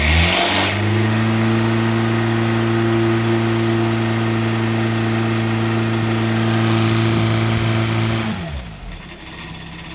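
A 1200cc engine running on a dynamometer holds a loud, steady droning note for about eight seconds, then shuts off and the sound dies away near the end.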